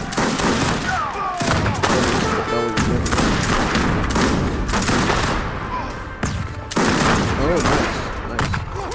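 Cossack troops in the Age of Empires 3 video game fire volleys of guns, loud overlapping fusillades and thumps dense throughout, with brief pauses between bursts.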